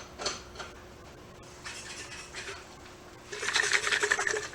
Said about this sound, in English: It has rocks in it, and you put the water in and it shakes